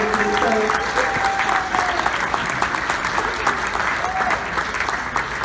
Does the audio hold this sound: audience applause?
yes